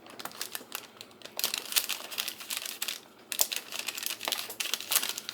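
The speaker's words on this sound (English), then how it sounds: "Just trimming any of the overflow of the chocolate off." Trimming excess dark chocolate off freeze-dried banana chips makes close, crisp crinkling and snapping bursts in irregular clusters, with brief quiet pauses between them.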